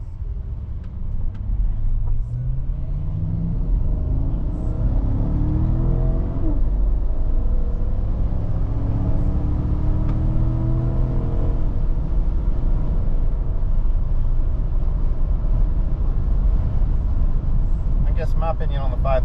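A 2020 Chevrolet Tahoe LT 4x4 with the 5.3 engine accelerating from standstill to about 75, engine note climbing through several upshifts with rising and dropping pitch, steady road rumble beneath, loud from inside the cabin, with a voice speaking over it.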